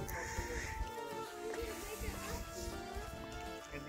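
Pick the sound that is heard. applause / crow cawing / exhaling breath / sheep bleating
sheep bleating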